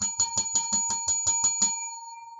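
A bright bell rings in about nine quick, evenly spaced strikes, then a single pure tone hangs and slowly fades after the strikes stop.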